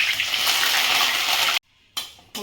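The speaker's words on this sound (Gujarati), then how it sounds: "આપણે મીઠો લીમડાના પાન તળીશું" Curry leaves frying in hot oil, a loud crackling sizzle for about a second and a half, then a brief break before the sizzle comes back in short bursts.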